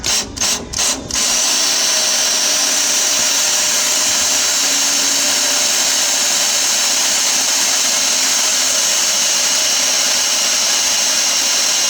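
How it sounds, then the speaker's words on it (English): A power drill bores a hole for an exhaust hanger on a 1963 GMC project, starting with a few short bursts and then running in a loud steady whine up close, with no talking. "so I'm going to drill a hole here."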